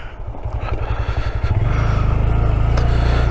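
A Honda Grom motorcycle engine putters, then revs up into a steady, louder drone as it pulls hard riding uphill off-road, close by with no talking.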